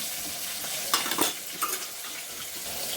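Ginger, garlic, turmeric, coriander and cumin spices frying in oil for a fish curry, a dense continuous sizzle with a few brief spoon scrapes and stirs, close up.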